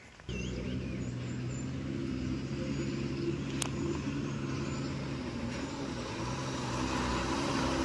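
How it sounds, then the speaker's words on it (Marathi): A village state transport bus runs along a rural Konkan road near Sangameshwar. Its engine sets in abruptly as a loud, close, steady drone and holds evenly to the end. "इकडून मस्त अशी गावची एसटी येते."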